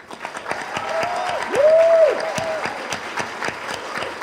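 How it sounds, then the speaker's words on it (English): Audience applause greets a speaker walking onto the stage at a school science-communication competition final: steady dense clapping from a crowd, swelling slightly in the middle, with a sustained tone running through it. "please welcome to the stage with a huge round of applause, Tom Greenwood from Rednock School."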